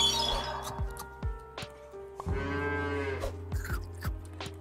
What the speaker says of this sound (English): Okay, I guess we're gonna be keeping cow for this round.